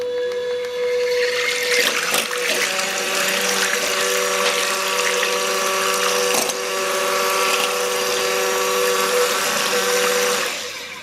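A cordless electric mixer whipping cream toward soft peaks, a loud steady whir with a sloshing, churning texture and a couple of brief clunks as the beaters shift. It runs continuously with no speech.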